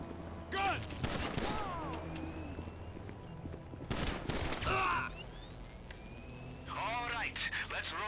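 Gunfire in GTA 5 Online comes as several bursts of rapid shots with booming echoes, spread across the scene between stretches of game sound.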